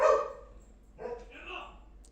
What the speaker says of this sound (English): And my dog is barking again.